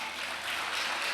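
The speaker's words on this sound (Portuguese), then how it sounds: "Tu pode dar uma salva de palmas para o Senhor?" Church congregation applause during a worship service, a soft, even patter of many hands clapping that continues steadily and sounds somewhat distant.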